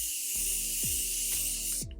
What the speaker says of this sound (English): Spraying it down will give longevity and make everything kind of like blend seamlessly.